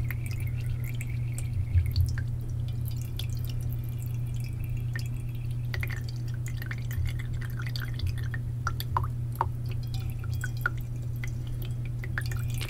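Water drips slowly onto a sugar cube during absinthe preparation, small irregular plinks and drops sounding close against a steady low background hum, with no talking.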